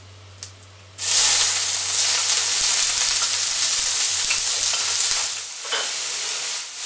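Chopped onion hits hot oil in a pan for chilli con carne, bursting into a loud, steady sizzle after a quiet second, the hiss holding strong and easing slightly near the end, with no talking.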